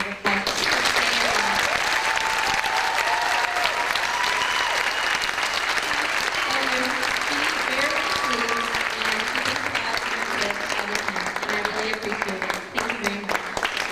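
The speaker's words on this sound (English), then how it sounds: "everybody, just give her a huge round of applause" A crowd at a gathering claps loudly and steadily for a woman receiving a special gift, sustained applause with voices and some cheering mixed in throughout.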